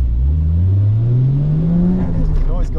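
A drift car's engine revs hard while driving, its pitch climbing steadily in one long pull before easing off, loud and close with a brief higher whine near the end.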